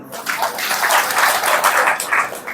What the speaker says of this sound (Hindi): ताली बजाओ इनकी